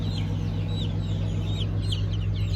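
Chickens clucking steadily in an enclosure where a chick has just hatched, with repeated short chirps and clucks over a constant low mechanical hum, no talking.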